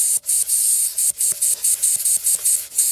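Pressure hissing past a leaking valve on a Grant boiler, a close, steady spray-like hiss broken by brief dips and small clicks, with no voices.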